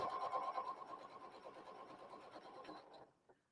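A sewing machine runs steadily through a quilt block seam, sewn with the back side up. The motor hum and rapid needle rattle hold at an even pace, then stop with a small click near the end.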